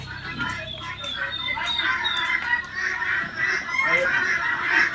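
Farm chickens of mixed breeds in a poultry yard clucking and calling repeatedly at close to middle distance, with people talking underneath.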